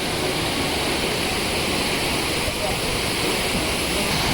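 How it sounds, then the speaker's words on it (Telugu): Water rushes with full force past a small roadside viewpoint on the way to a temple in West Sikkim, a loud, unbroken roar filling the whole moment. "సో వాటర్ అయితే ఫుల్ ఫోర్స్లో వస్తుంది ఇక్కడ."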